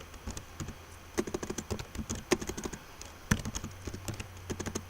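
Typing a command at a command prompt on a computer keyboard, with quick irregular key clicks in short bursts, close and fairly quiet, with no talking.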